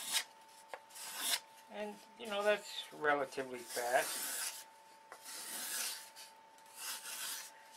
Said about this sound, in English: we're going to plane this edge off down to our line